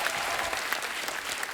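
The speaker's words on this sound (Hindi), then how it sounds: "जोरदार तालियां हमारे मेहमानों के लिए" A studio audience at a stand-up comedy show applauds welcomed guests, with dense, steady clapping throughout a short burst.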